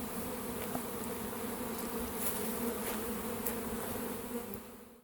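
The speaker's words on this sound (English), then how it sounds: "all the field bees are going back to the opposite entrance" Honey bees hum and buzz steadily at the entrance of a queen-rearing hive, a dense continuous drone of many insects close by with no talking.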